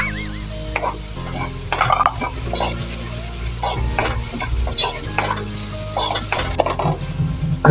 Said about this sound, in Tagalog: Sunod pa natin igisa yung bawang. Sunod po natin yung sibuyas.